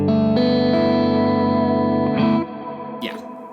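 An electric guitar chord rings through an ambient reverb pedal on a pedalboard, loud and shimmering as it sustains, then is cut off abruptly and followed by a faint string squeak and a soft washy tail.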